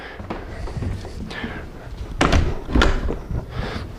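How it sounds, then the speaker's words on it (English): A house door is shut behind visitors during a home tour, with a couple of solid thumps and a closing thud close by while someone talks over it. "I'll close the door behind you"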